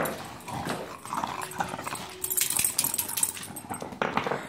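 A big dog moves about a floor indoors, its nails and paws tapping and scuffling in an irregular patter, close and fairly quiet amid room noise.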